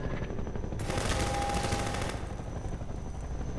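Rapid machine gun fire in Half-Life 2, a dense continuous burst lasting about a second and a half, loud and close, with game ambience before and after.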